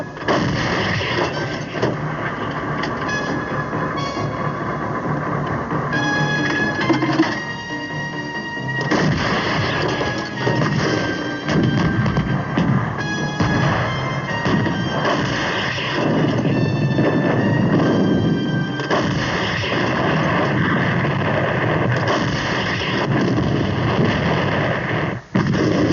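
Heavy artillery guns firing in a military setting, producing a dense, sustained roar of booming blasts and rumbling reports that fill the whole stretch, loud and continuous with no speech.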